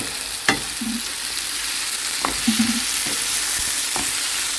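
A utensil stirs a salty sauce for zucchini in a frying pan: a steady loud sizzle throughout, broken by a few sharp scraping knocks and short clinks against the pan.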